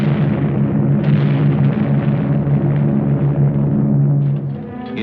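Aerial bombing and strafing of Japanese strongholds by Allied Eastern Air Command aircraft in 1945 wartime footage, heard as a continuous dense rumble of blasts and roaring engines, loud throughout and easing slightly near the end.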